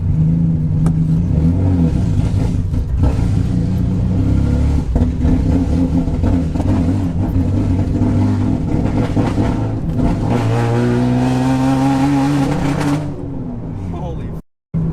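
A rebuilt, cammed Infiniti G35 engine runs loud and close with a rough, lumpy drone, then revs up near the end before cutting off abruptly, with voices talking over it.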